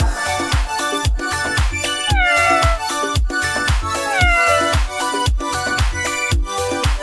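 A cat meows repeatedly over a steady, bouncy beat of music, the meows loud and close.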